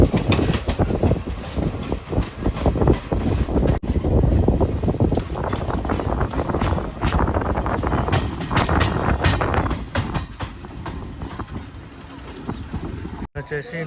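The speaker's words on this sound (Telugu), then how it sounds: "తిరుపతి బిలాస్పూర్ ఎక్స్ప్రెస్ ట్రైన్ ఇది" The Tirupati–Bilaspur Express rushes past close by in a loud, rough roar of wheels and wind that fades toward the end.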